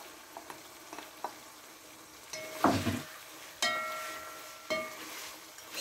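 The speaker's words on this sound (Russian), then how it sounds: "мясо у нас обжарилось, и теперь мы отправляем туда лук." Onions and meat sizzle in a hot pan over high heat at a low, steady level, broken by a few sharp clanks and scrapes of stirring.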